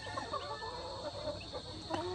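Native chickens clucking softly with faint barred rock chick peeps mixed in, a busy low murmur of fowl close by over a steady background hum.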